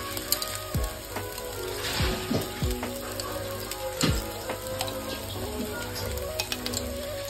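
Ghee sizzling in a hot pan as a finishing touch on chira polau, a Bengali flattened-rice pilaf, giving a steady soft crackle with a few sharper pops throughout.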